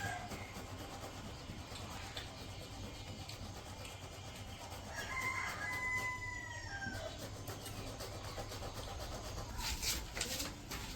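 Village chickens clucking and fussing outdoors at feeding time, with a rooster's crow rising briefly in the middle over steady background noise.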